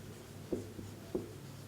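Chalk or pen writing numbers on a board, a few faint, soft strokes in a quiet room.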